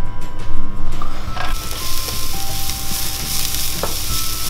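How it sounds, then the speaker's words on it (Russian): Shredded cabbage drops into a hot frying pan and sizzles loudly and continuously, with occasional scraping from stirring. "это скинем в сковороду"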